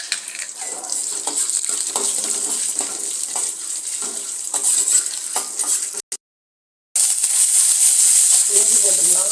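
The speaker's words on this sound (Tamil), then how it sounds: "பட்டை, கிராம்பு, சோம்பு, ஏலக்காய் எல்லாம் அதை போட்டு வறுத்துக்கலாம்" Whole spices, cinnamon, cloves, fennel, cardamom, pepper and cumin, sizzle and crackle steadily in hot oil in a pan for mutton kuzhambu, a continuous close hiss with a brief dropout near the end.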